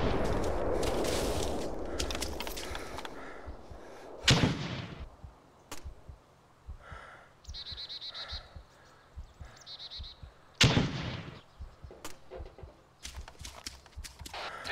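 Gunfire at a military base in ArmA 2 with the ACE mod: several sharp, loud shots spaced apart, with quieter clicks and rustling movement between them.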